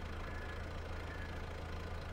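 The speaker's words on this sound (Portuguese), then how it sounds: "Ligou o motor" A farm vehicle's engine in Farming Simulator 22 idles steadily after starting, a constant low, even drone with a faint knocking pulse and no talking.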